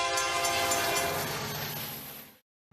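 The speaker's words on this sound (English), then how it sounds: "our live stream cameras catch a westbound Union Pacific manifest train with a fairly large consist" Westbound Union Pacific manifest freight train with a large consist, its loud chord horn sounding one long sustained blast over rolling rail noise before cutting off abruptly.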